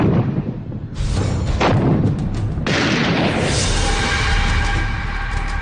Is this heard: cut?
no